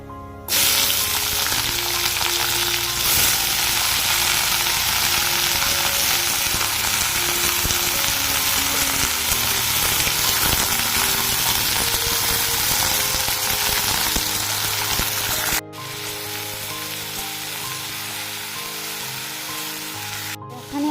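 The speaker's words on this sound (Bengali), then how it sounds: "কালো জিরে ফোড়ন দিয়েছি" Black cumin seeds sizzle in hot oil as a tempering for a Bengali fish curry, a steady loud crackling fry that runs unbroken, then drops slightly quieter near the end.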